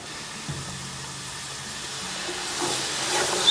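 Milk poured into hot sausage grease and flour on a Blackstone griddle, giving a steady steamy hiss that swells louder toward the end, with no voices.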